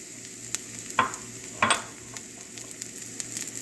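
Garlic sizzles in hot olive oil in a skillet with a steady frying hiss, broken by two louder bursts of crackle as it is stirred around, then continuing more softly.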